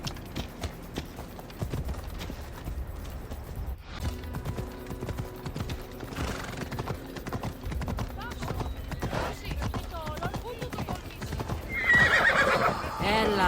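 Rhythmic clip-clopping hooves with a horse whinnying in Assassin's Creed Odyssey, set against game-like background music and effects, getting louder near the end.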